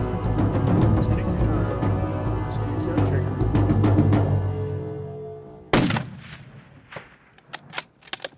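A single loud rifle shot cracks out at a ram during a sheep hunt, abrupt and close, following a stretch of talk and leaving fainter thumps and rustles behind.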